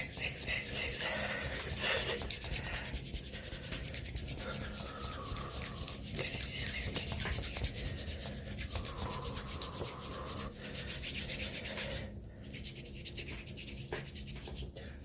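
Hands rub briskly in circles over skin and clothing during a fast, aggressive neck and shoulder massage, a close, steady friction sound that continues without a break and stays quiet.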